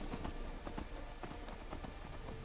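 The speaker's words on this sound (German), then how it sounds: "Ich will mal ganz kurz ein bisschen reiten" Horse hooves clip-clop steadily while riding through the world of the video game Skyrim, a quick rhythmic gallop of repeated thuds over a dense, loud game soundscape with no talk.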